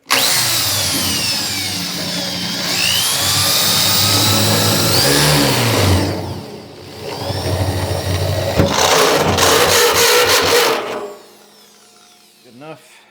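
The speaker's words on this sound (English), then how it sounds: "I'm just gonna drill a hole near the edge to start with" A power drill bores a hole near the edge of a 55-gallon steel drum, a loud, sustained grinding whine that rises in pitch in bursts, briefly drops away and returns before stopping.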